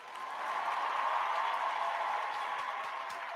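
Audience applause from a comedy show crowd, a steady wash of clapping that swells in and holds for a few seconds without anyone speaking over it.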